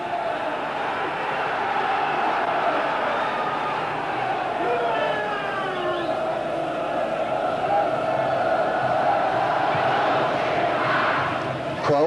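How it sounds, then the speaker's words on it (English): A football crowd at a 1987 Sunderland versus Gillingham match gives steady, broad applause and murmuring after a free kick, with a sustained stadium roar throughout. "Generous applause for an intelligent free kick."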